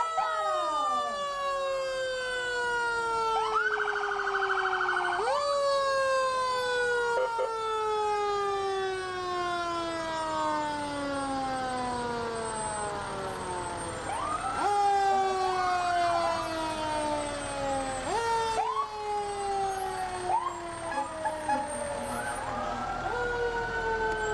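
Fire department trucks roll past in a St. Patrick's Day parade, several sirens wailing at once, rising and falling in overlapping sweeps, loud and close, with a low engine rumble underneath.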